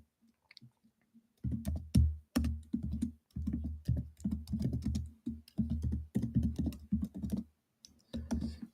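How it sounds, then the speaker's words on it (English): Rapid typing on a computer keyboard during a live Seahawks vs. Packers football commentary stream, close and clear, in dense bursts of clacking keystrokes with short pauses, no talking. "Until then, I'm going to keep typing this."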